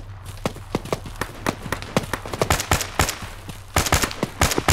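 Rapid, irregular bursts of gunfire in the video game ArmA 3 crack over a low steady hum, shots coming in quick clusters throughout with brief gaps between volleys.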